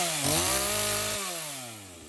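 A chainsaw revs loudly and close, its engine pitch rising and falling as it bites into wood during park construction work, with no talk over it.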